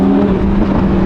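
Audi R8 V10 engine revving under load while driving on a mountain road, a loud, steady droning roar with strong low harmonics, heard close from inside the car.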